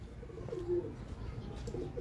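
Pigeons kept by breeders of high-flying birds coo softly in a low, murmuring series over steady background noise, with a slightly louder call in the middle.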